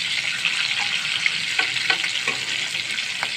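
Hilsa fish pieces sizzle steadily in hot soybean oil, a dense continuous crackle with occasional sharper pops and spatters, close and loud with no voices.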